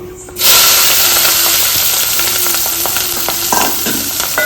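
Green chillies drop into hot oil with turmeric in a pan, setting off a sudden loud sizzle that holds as a dense, close crackling hiss, broken by a few stirring scrapes.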